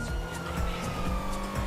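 A car in a GTA roleplay game brakes hard, its tires squealing over a steady engine drone in a short, loud burst.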